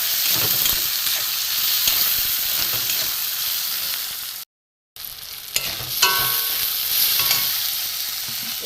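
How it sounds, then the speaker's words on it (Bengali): Drained Gobindobhog rice tipped into a hot pan and stirred, giving a steady bright sizzle with scraping spoon movement, a brief gap midway, then continued frying hiss and stirring close up. "দিয়ে আমি এখানে জল ঝরানো গোবিন্দভোগ চালটা আমি দিয়ে দেবো"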